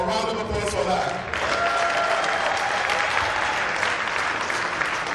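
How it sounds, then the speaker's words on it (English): Enthusiastic audience applause in a decorated event hall, clapping bursting in after a brief voice and then holding as a dense, lively roar of many hands with cheers mixed in. "A round of applause for that."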